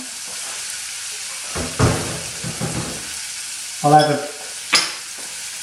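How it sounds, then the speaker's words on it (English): Chopped onions sweat in hot oil in a pan for a beef madras, giving a soft steady sizzle broken by a few louder scraping stirs, with a brief spoken phrase. "Now I'm just going to sweat those onions down."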